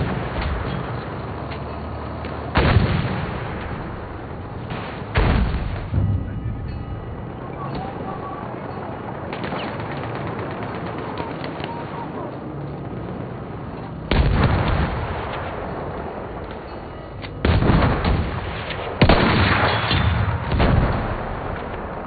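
Heavy artillery barrage in Battlefield 1 trench-warfare gameplay: loud, booming shell blasts land at irregular intervals over a constant rumbling battlefield roar, with several clustered bursts near the end.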